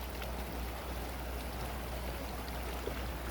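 Steady creek water flows and gurgles without a break at a gold mine in Idaho Springs, Colorado, a broad continuous wash with a low rumble beneath it and no voices.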